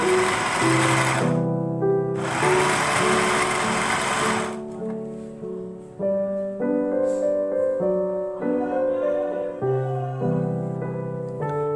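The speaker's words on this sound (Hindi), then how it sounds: "जी अब इनको चॉप करेंगे, बहुत ज़्यादा बारीक नहीं करना।" Chicken being minced for kababs in an electric chopper: loud whirring motor bursts that start and stop, with the pitch shifting as the meat breaks down, close by with no talk.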